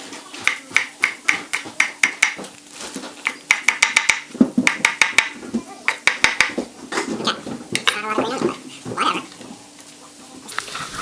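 A knife chops the tips off green onions on a cutting board in a series of sharp, fairly even knocks that come in quick bursts and then slow to scattered taps, close and clear, with no talking.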